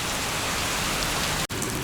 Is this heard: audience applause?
no